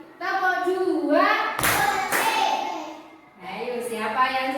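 A class of children claps a two-beat clap pattern, two loud close claps, with a voice calling the pattern before and chanting after.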